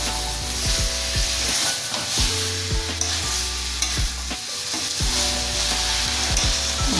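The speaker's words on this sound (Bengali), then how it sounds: "মশলার সঙ্গে চাল কষানোর সময় একটু নুন দিয়ে কষাচ্ছি।" Rice frying with spices and a pinch of salt for a quick katla fish pulao: a steady loud sizzle with repeated spatula scrapes and stirs against the pan in an irregular rhythm, close and without talk.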